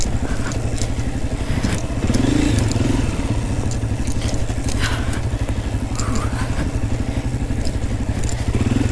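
A Honda CRF250F dirt bike rides rough single track with its small engine droning steadily at close range, mixed with clatter and scraping over rocks and roots.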